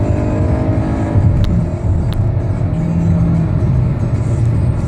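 A Hyundai Sonata accelerates hard from 0 to 60 mph, a loud continuous engine roar and road rumble heard from inside the car with no pause.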